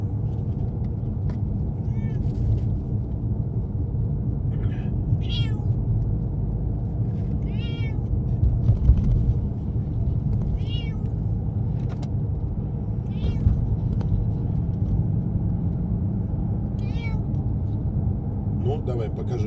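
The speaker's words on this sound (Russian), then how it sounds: "Видите, у нас не поездка тут, а разговор с котом." A cat meows repeatedly in short, complaining bursts inside a moving car, the calls spaced every few seconds over a steady engine and road rumble, with someone talking between them.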